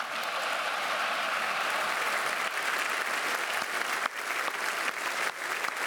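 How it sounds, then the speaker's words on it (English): Dense, sustained applause from the audience at the European Inventor Award 2019 ceremony as the jury is honoured, a continuous wash of many hands clapping that holds steady and begins thinning slightly toward the end. "I think they deserve a big round of applause."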